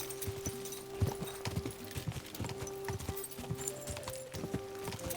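A horse in Kingdom Come: Deliverance 2 trots with rhythmic, fairly close hoof clops over a steady background hum, recurring evenly throughout.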